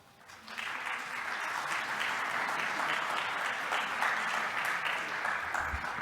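Applause from an audience of medical residents at a hospital talk fills the room, rising quickly and holding steady and dense for several seconds, with no talk.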